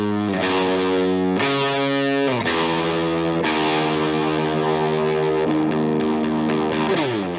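Thick, heavily distorted electric guitars playing sustained chords together, changing every second or so, loud and dense with no voices.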